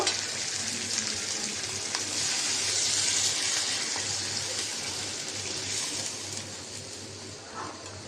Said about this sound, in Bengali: মাছটা কষানো হয়েছে আমি এখন একটু জল দিয়ে দিব